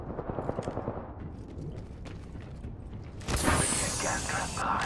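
Gunfire in the Apex Legends video game: a rapid run of sharp shots early on, then a dense, louder burst of firing and noisy clatter in the last second and a half, with game voices talking over it.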